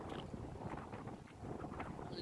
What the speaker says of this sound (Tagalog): Pero lakas ng hangin.